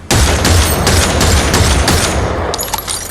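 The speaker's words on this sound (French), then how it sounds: "Le bruit est très stylé, il y a 6 coups" Six pistol shots fired in quick succession in the video game Fortnite, loud and booming at close range, running nearly continuously before the sound trails off at the end.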